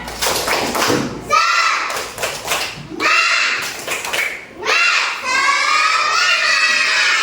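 A class of children clap a rhythmic chant together, bursts of sharp claps in patterned groups alternating with their shouted chanting voices, close and loud in a classroom.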